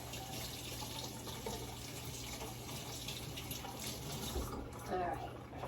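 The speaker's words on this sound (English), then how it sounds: "Wash my hands." Water runs steadily from a kitchen tap while hands are washed, a constant close rushing hiss with a faint low hum underneath.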